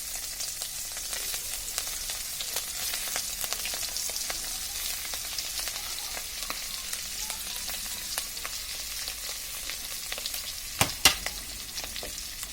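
Hilsa fish in mustard sauce preparation frying in hot oil, a steady dense sizzle with scattered crackles throughout, close and moderately loud, with a couple of sharper pops near the end; no one speaks.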